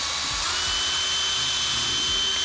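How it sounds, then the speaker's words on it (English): A power drill pre-drilling a small pilot hole into wood in a workshop, a loud steady high-pitched whine with a few low bumps as the bit bites, heard close up. "I'm gonna do a little pre-drill just because I don't want that wood to split"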